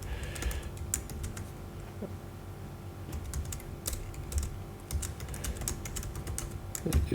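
Keys clatter steadily on a computer keyboard, a continuous run of quick irregular clicks at close range with no talking.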